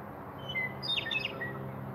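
A small yellow bird perched on a fence chirps a few quick, thin high notes at a moderate distance over steady background noise outdoors.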